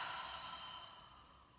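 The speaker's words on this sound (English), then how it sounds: "really feel the breath as it comes out, exhaled out through the mouth" Slow exhale out through the mouth during yoga breathing practice, a soft, airy, close breath sound that fades gradually over about a second and a half, alone.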